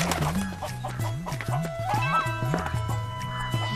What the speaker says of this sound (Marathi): अरे कोंबडी पकड